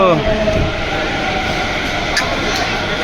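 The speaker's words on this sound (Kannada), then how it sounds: "ಫೈನಲಿ ಬಂದ್ಬಿಡ್ತು ನೋಡ್ರಿ ಮೆಟ್ರೋ" A metro train rumbles loudly and steadily into a station, with a rising tonal whine at the start and constant mechanical noise throughout.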